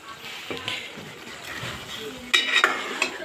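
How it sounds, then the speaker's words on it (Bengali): Fish being stirred and fried in a pan with spices, a soft sizzle beneath clinking utensil scrapes against the pan, with a few sharper metallic knocks toward the end. "মাছগুলো একটু ভালো করে কষিয়ে নিচ্ছি।"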